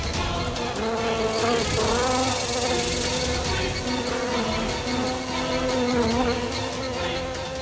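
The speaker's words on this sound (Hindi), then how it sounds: "मक्खी" A housefly drones steadily and close in a Hindi horror TV drama scene, a sustained buzzing hum that holds for several seconds over a busy background, with no talk.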